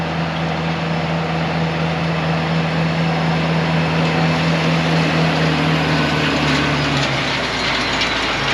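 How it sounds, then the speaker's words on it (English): A cultivator working a dusty crop field drones steadily with a loud, constant mechanical hum and low rattle, close and unbroken, with no voices. "There is a cultivator back there."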